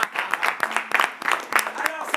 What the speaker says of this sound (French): On applaudit pour nous-mêmes.